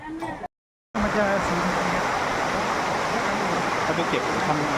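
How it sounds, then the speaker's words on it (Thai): Tat Wiman Thip waterfall in Bueng Kan, Thailand, gives a steady, loud, close rushing roar of falling water that runs unbroken after a brief silent gap near the start, with a faint voice just before it. "อันนี้เขาเรียกน้ำตกอะไรนะครับ น้ำตกตากวิมานทิพย์"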